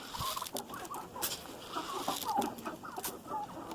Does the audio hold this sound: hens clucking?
yes